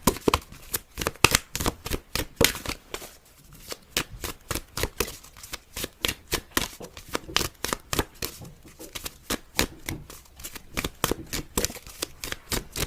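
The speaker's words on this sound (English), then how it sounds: "Let me pull one final card here, some advice for you," Tarot cards being shuffled by hand in a rapid, steady flutter of crisp riffling snaps that runs continuously at close range, with no talking.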